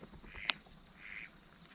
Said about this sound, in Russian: Кряку сели, крякают тут.